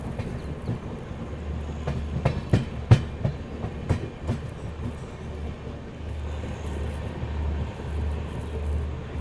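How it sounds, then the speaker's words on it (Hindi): A Bhopal Shatabdi Express train rolls into Dholpur Junction with rhythmic clickety-clack of wheels over rail joints and a low rumble, the clacks slowing and fading as it stops. "धौलपुर जंक्शन स्टेशन फ़िलहाल अपनी ट्रेन जो है वो पहुँच गई है"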